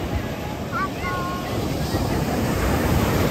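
Ocean surf at Besant Nagar Beach in Chennai rolls and breaks in a steady wash with wind buffeting the microphone, and a faint tonal chirp rises briefly early on.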